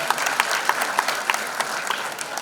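Loud, sustained applause from an audience at an event honouring a singer, a dense wash of clapping with a few sharper individual claps standing out, no speech over it.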